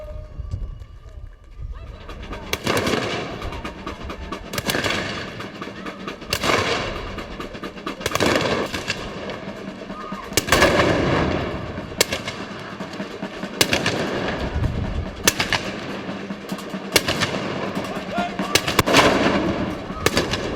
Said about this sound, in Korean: 총소리와 대포 소리에 정신은 없었지만